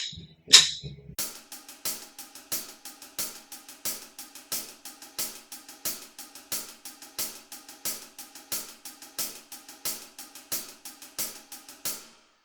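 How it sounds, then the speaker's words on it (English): Even sixteenth notes at 90 BPM, a fast steady stream of crisp percussive clicks with a faint accented pulse, played close and fairly quiet, preceded by a short louder strike at the start. "So if you have your metronome set to 90 BPM, your 16th notes will sound like this."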